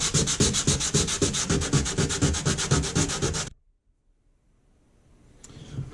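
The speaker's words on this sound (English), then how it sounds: "we're just gonna sand and take this, you know, extra epoxy down, just get rid of it, and just sand over everything" Rhythmic back-and-forth sanding over epoxy-coated hydrofoil cores, loud close strokes in a steady pulse for about three and a half seconds, then stopping abruptly into near silence with a faint rustle at the end.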